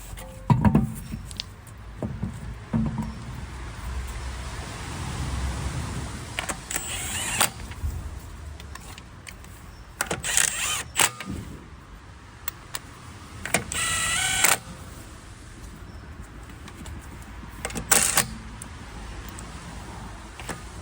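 A Mercedes W204 wheel is refitted and its wheel bolts are tightened, heard as intermittent mechanical whirs and bursts of rattling clicks from a power tool over a constant workshop hum.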